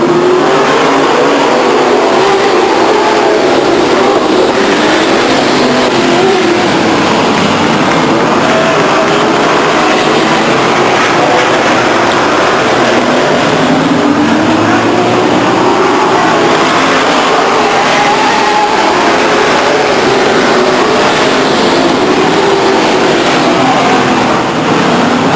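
Race cars circling Stockton 99 Speedway in 2000, a dense, loud, continuous roar of several engines rising and falling as the pack passes, with no talk heard.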